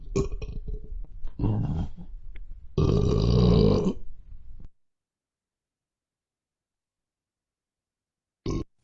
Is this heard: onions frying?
no